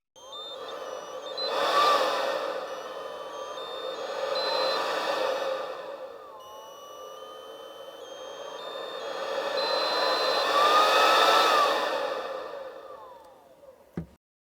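A Makita DUB185/DUB186 18V mini cordless blower runs with a whining, airy rush that swells and eases several times as its trigger is squeezed and released, ending in a sharp click.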